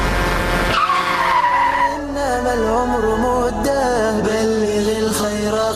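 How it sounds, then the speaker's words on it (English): A truck skidding across a busy intersection, a loud sustained tire screech that slides downward in pitch, followed by wavering squeals and engine noise as a dramatic sound effect. "A truck coming straight at him, screaming for Ziyad"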